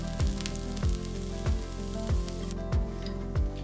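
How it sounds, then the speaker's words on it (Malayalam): A sandwich grills on a tawa over a medium-low flame, a continuous soft sizzle overlaid by a steady rhythmic low thumping that repeats roughly every two-thirds of a second. "സാൻഡ്വിച്ച് ഓരോന്നും ഈ തവയിലോട്ട് വെച്ച് ഗ്രില്ല് ചെയ്തെടുക്കണം"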